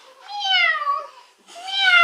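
A woman imitates a cat with her voice, giving two drawn-out meows in quick succession, close and clear, the first longer and falling in pitch, the second rising again.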